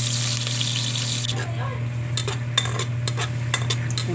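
Fresh garlic and sliced onion sizzle in a pan while being stirred for sautéed mung beans with pork, a steady frying hiss broken by scraping utensil strokes near the end.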